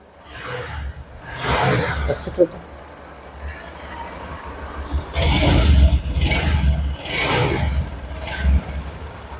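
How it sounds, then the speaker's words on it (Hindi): Exhaust of a 2023 Honda Shine 125 E20 motorcycle, a low, steady idle rumble broken by several louder bursts of revving close by, with some talking between them. "आप एग्जॉस्ट का साउंड सुन लें"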